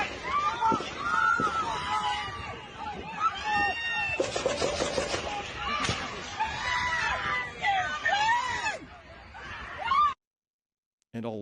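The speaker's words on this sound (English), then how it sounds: "And a lot of screaming." Crowd screaming and shouting at a Trump rally in the recording of the assassination attempt, a dense, loud mass of overlapping shrieks and cries lasting several seconds before cutting off abruptly.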